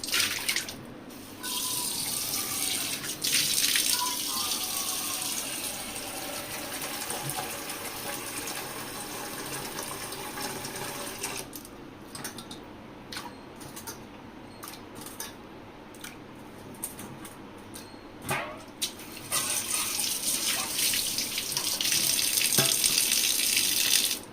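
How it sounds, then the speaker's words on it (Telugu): Water runs from a tap in a loud, steady gush as raw prawns are washed, easing off midway with splashes and handling clatter before the flow surges again. "మళ్ళీ వాటర్ పడేయాలి."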